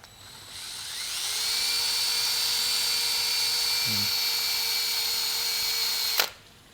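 Cordless drill spinning to buff a cloudy Tervis tumbler with Flitz polish, a steady high whine that ramps up, holds for several seconds with a brief dip, then cuts off abruptly, close and alone.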